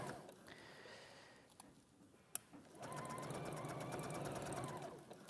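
A sewing machine stitches along a fabric edge, running in two bursts with a short pause between, the second longer and steadier, close and moderately loud with no talk.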